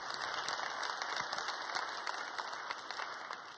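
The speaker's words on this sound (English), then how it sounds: "Give Kalima another round of applause" A conference audience applauds steadily, dense continuous clapping from a large crowd that holds at an even level throughout, heard from some distance with no clear voices over it.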